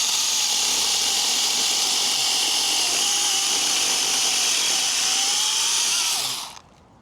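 An 18-volt cordless mini chainsaw cuts wood with a loud, high, steady whine that bogs slightly under load, then winds down and stops near the end.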